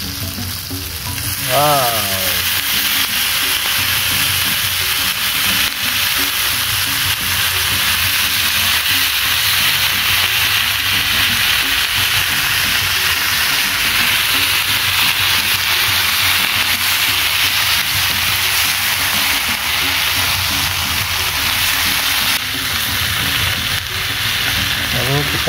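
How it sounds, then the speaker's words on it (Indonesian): Leaves dropped into a pan of spice paste fry with a loud, steady sizzle and hiss that runs unbroken throughout, with a brief voice exclaiming near the start. "lalu kita masukin daunnya ya sobat"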